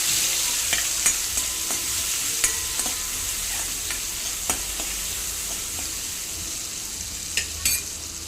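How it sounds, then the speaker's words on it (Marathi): Tomatoes and chillies sizzle and spit loudly in hot tempering oil, with occasional clinks and scrapes of a spoon stirring the pan, and no voices. "टोमॅटो आणि मिरच्या मी जरा फोडणीतच टाकते"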